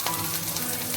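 Fish frying in hot oil for a spicy fish pickle gives off a dense, continuous, close sizzle with no voices.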